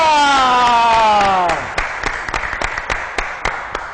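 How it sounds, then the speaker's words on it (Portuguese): Scattered hand claps from a small studio audience welcome pastor Taborda on a Brazilian television talk program, arriving as a voice finishes speaking and continuing in a loose, uneven patter of sharp, close claps. "Vamos aplaudir o pastor Taborda!"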